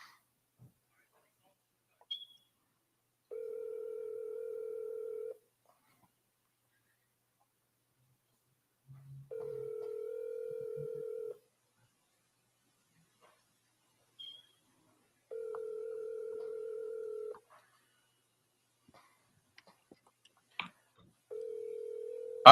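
A phone call's ringback tone sounds alone in a quiet room, four steady, moderately loud electronic rings, each about two seconds long, separated by longer pauses.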